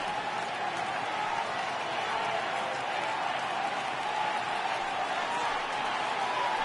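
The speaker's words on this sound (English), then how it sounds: "Crowd gets up for the 3-2." A baseball crowd in the MLB 18 video game rises for a full count at a Mets at Pirates game, a steady, broad roar of cheering and clapping held at an even level throughout, with no clear voice on top.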